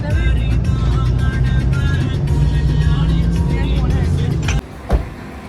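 A taxi idling at a CNG filling station, a low steady engine rumble close by, ending with a door thump and a brief knock; voices speak over it.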